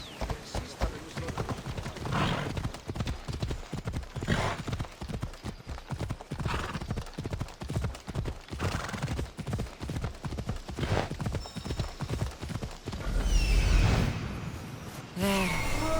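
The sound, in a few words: horse galloping hooves in the video game Assassin's Creed Odyssey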